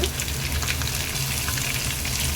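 Tempering for venpongal, with chopped green chili and cashews going into hot oil in a pan, gives a steady, close, broadband sizzle that runs unbroken from start to end with no talk.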